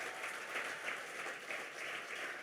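A church congregation applauding and cheering together, a steady wash of many hands clapping at moderate distance with no speech over it.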